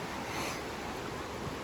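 Fast-flowing stream water rushing over slippery rocks at a river crossing in the 100 Mile Wilderness, a steady, dense, broadband roar filling the whole stretch without pause.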